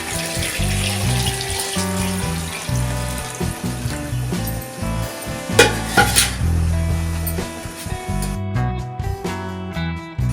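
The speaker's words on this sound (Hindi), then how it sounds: "ये 2 किलो के करीब पानी है जो कि मैं इसमें डाल रही हूँ" About two kilograms of water pours into a cooking pot holding pieces of beef trotters, a steady splashing gush with metallic clanks and clatters of the pot, continuing for several seconds.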